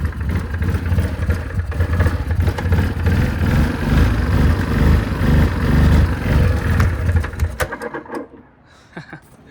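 Yamaha Kodiak ATV engine running on choke, a rough close idle with uneven chugging and clatter for several seconds before cutting out.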